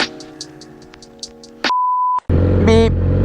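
A sharp electronic vehicle beep rings out as a steady tone lasting about half a second, loud and close, after a stretch of quieter rhythmic clicking and before engine-like rumble and a rising whine from a motorcycle scene.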